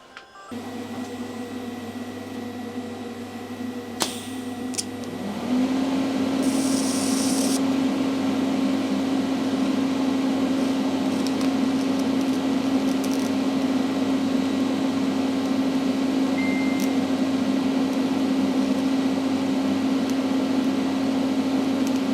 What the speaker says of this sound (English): Taking a bit longer to weld this than I normally would, just so the heat soaks into the stud a bit.